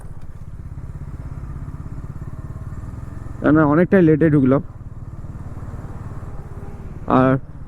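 Bajaj Dominar and KTM NS 400 motorcycles idle at a toll plaza on a morning group ride, a steady low engine rumble running throughout beneath brief bursts of nearby talk.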